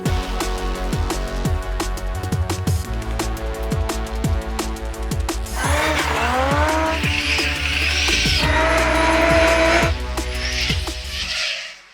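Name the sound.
Toyota GT86 drifting with tire squeal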